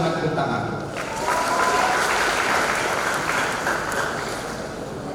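At an academic graduation ceremony of a theological college in Pematangsiantar, a hall full of attendees claps in a broad, continuous round of applause that swells midway and holds steady at moderate loudness.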